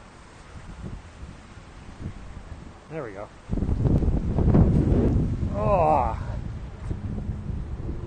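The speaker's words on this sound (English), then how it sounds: "Woo, it's windy and cold out here." Wind gusts buffet the microphone outdoors in cold weather in Hong Kong, growing stronger midway, while someone talks intermittently.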